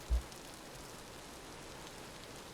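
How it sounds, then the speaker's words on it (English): Steady rain falls in the Vintage Story survival game, a continuous even hiss of drops on surfaces with one brief low thump near the start and no talking. "it's raining, so it's hard to tell"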